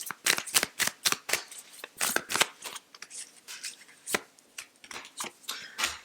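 Tarot cards being shuffled and drawn, a rapid series of crisp riffling and slapping bursts with short pauses between them, close and fairly quiet, no talking.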